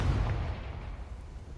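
A Confringo fire spell blasts in Hogwarts Legacy, a single deep muffled boom that rumbles and fades over a second or two, with no voices over it.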